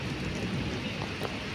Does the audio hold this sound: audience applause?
no